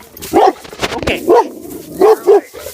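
A dog barking close by outdoors on rural land, four loud barks in two quick pairs with short gaps between them.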